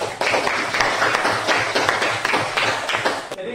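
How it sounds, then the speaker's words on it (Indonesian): A classroom of students claps for a classmate, a dense burst of applause running steadily for a few seconds before stopping abruptly. "Tepuk tangan dulu untuk Fitri."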